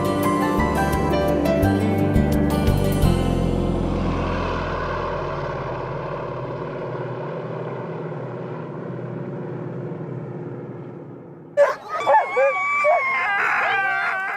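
Sled dogs at the start of the Iditarod dog sled race in Anchorage, Alaska, with a propeller aircraft droning loudly and fading out before a burst of near, lively barking and howling rises at the end.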